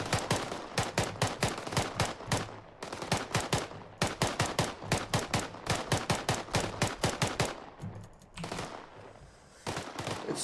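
Rifle fire on a shooting range in the video game Arma 3, a long run of rapid, evenly spaced shots from several weapons with short pauses, loud and dense throughout.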